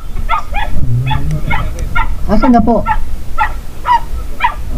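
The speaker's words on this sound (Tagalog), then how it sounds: "Ingay nung aso nyo eh." Household dog in the Philippines, met during a delivery stop, barks and yips repeatedly in short bursts while someone talks nearby.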